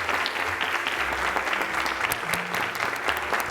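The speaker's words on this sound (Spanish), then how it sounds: "Fuerte aplauso." A studio audience breaks into loud applause to welcome a guest onto a television program, a dense, even wash of clapping holding steady throughout with low murmurs underneath.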